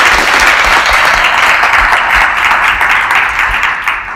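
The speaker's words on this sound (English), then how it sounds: "Can we give them another round of applause" A conference audience applauds panelists after an early childhood education discussion, a loud, dense, even wash of many hands clapping that holds steady and eases slightly at the end.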